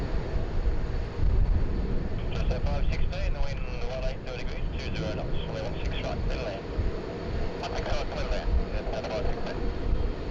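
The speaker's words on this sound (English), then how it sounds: "just exiting the Intel 1 apron out onto taxiway Alpha" A widebody airliner taxis from an apron onto a taxiway at Sydney Airport for a departure to Kuala Lumpur, its engines a steady roar mixed with wind buffeting and rain, with some talk over it.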